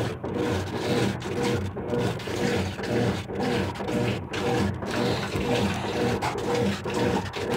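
Water churns and sloshes steadily in a Brastemp BWK12 washing machine during its rinse cycle, a continuous rhythmic swishing with soft rubbing and agitation, close and moderately loud with no talking.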